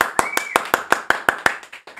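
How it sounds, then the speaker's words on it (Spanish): Evenly spaced, sharp claps, roughly ten in two seconds, ring out close and loud over a faint steady tone during a livestream thanking donors. "Aplausos, por favor."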